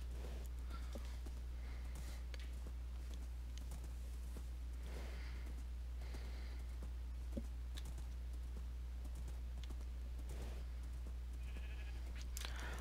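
Sheep bleating in the video game Minecraft, several short calls scattered over a steady low hum with faint clip-clop steps, no talk.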